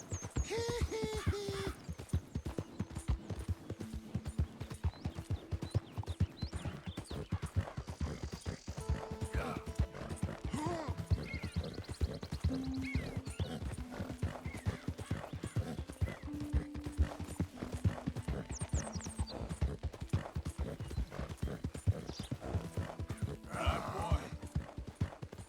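Galloping horse in Red Dead Redemption 2, a steady rapid clip-clop of hooves running throughout, with occasional snorts and scattered game sounds, while a person talks over it.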